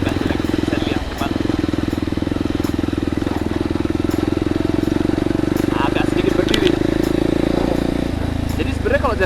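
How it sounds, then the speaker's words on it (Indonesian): Kawasaki KLX 230 dual-sport motorcycle engine running while being ridden over rough road, a steady close throttle drone that dips near the end, with some clatter and faint talk mixed in. "Dan suara motornya itu menggoda sekali untuk ditarik."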